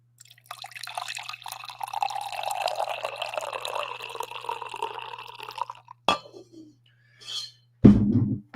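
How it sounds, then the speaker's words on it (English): Coffee pours steadily into a cup for several seconds as a soft, continuous trickle, then stops, followed by a few brief clinks and knocks. "I think I can pull off one more coffee pour here."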